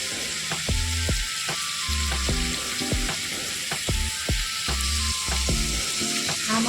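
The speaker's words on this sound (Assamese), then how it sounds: "হাঁহ মাংস অলপ সময় ভাজিব লাগে," Duck meat fries in a pan, a constant loud sizzle broken by repeated rhythmic scraping and clanking of a spatula against the pan, close up.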